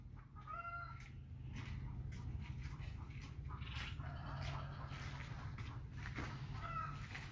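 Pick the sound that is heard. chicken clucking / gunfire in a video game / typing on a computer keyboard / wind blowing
chicken clucking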